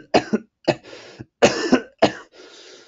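A person coughs in short, harsh bursts, about five fits with brief pauses between, close and clear with no talking, as read in an audiobook.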